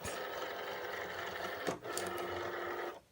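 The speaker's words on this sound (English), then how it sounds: "So I'm gonna go ahead and put in my Cricut mat." A Cricut cutting machine draws in its cutting mat with a steady, close mechanical whir. The motor breaks off briefly midway, then resumes before stopping.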